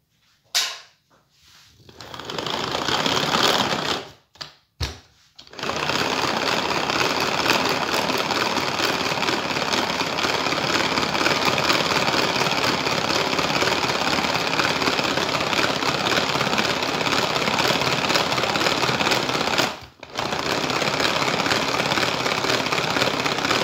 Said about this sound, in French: on va mettre ça à vitesse 1